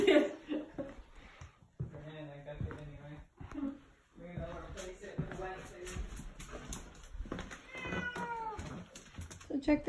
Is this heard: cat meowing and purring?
yes